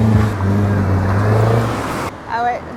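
A car accelerates past cyclists on a busy Marseille street, a loud close engine roar that builds and then drops away among traffic noise, with a brief tonal sound near the end.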